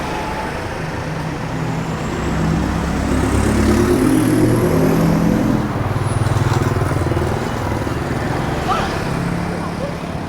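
Busy Bangkok street traffic with motorcycles and cars rumbling past nearby, a dense continuous engine drone that swells in the middle as vehicles pass, with someone talking over it.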